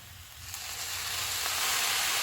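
Carrot, cabbage and capsicum stir-frying with soy sauce in a hot pan give a steady, close sizzling hiss that swells slightly, with no voices over it.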